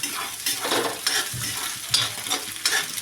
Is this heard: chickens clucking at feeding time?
no